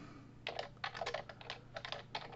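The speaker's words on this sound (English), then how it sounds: "So I can uh, type these guys in." Quick bursts of keystrokes on a computer keyboard, close and fairly quiet, with short pauses between clusters of clicks.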